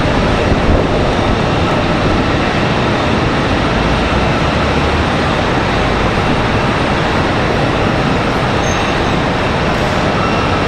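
A Spirit Airlines airplane taxis at Charlotte Douglas airport, its steady engine roar blending with gusting wind in a dense, constant wash of noise with no talking.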